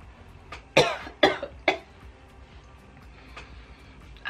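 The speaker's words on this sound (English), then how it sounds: "I have never ever coughed putting powder on in my life" Three sharp coughs in quick succession while applying face powder, close and fairly loud, followed by quiet room sound.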